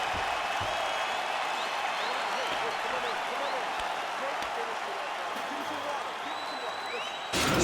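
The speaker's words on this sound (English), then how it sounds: "So the crowd voicing its appreciation after that round." A video-game arena crowd at an EA Sports UFC 4 fight keeps up a steady wash of applause and cheering from start to finish, with no break in the noise.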